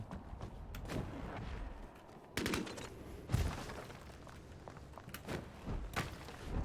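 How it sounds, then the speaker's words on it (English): A Tommy gun fires in Vampire: The Masquerade - Bloodhunt in several short, sharp bursts spread across the moment, with thuds and movement between them and no talking. "This Tommy gun has a pretty good feel to it."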